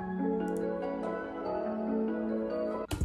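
A sample loop made in FL Studio, bounced to audio and rearranged, plays as layered sustained melodic tones with a soft, dense texture, ending in an abrupt cut with a brief burst at the end.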